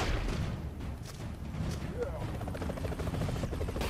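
A golden grenade blows up in Broforce, a dense, roaring explosion with rumbling low-end debris that carries through the whole stretch while a voice talks over it.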